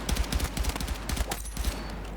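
Rapid automatic weapon fire in the Battlefield 6 video game during a test on a target range, a tight burst of repeated close shots over a couple of seconds.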